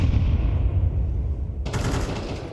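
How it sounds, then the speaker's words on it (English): Gunfire in a Counter-Strike match at an ESL Pro League esports event, a loud sharp shot bursting in at the end over a dense bed of game noise and crowd rumble. "Oh, lovely shot from Insani."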